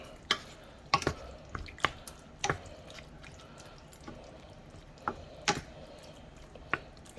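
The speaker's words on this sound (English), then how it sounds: "Give that a stir." A spoon stirs a simmering spaghetti meat sauce in a pot, giving a series of faint, irregular scraping and clinking knocks about a second apart over a quiet bubbling background, with no talking.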